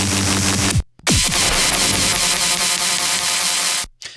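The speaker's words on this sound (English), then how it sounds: "like mangled computer sounds" Glitch sound effects from the MALFORM sample pack: dense, loud bursts of harsh digital static and buzzing noise, cut by abrupt dropouts to silence and falling pitch sweeps, mangled and chaotic throughout.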